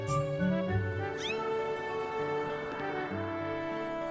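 A cat-like creature in the Legend of Zelda: Skyward Sword video game lets out a few short meows over steady game music, close and fairly clear.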